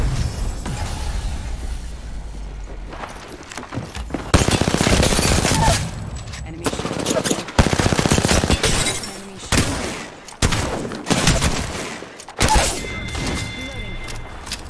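Apex Legends gunfire cracks out in loud, dense automatic bursts separated by short pauses, with glass-like shatters and impacts mixed in and speech occasionally present.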